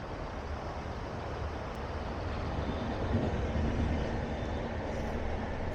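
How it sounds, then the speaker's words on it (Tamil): A train passes beside a flooded lake, a steady broadband rumble holding at moderate level and swelling slightly midway through, with no voices. "ட்ரெயின் போகுது."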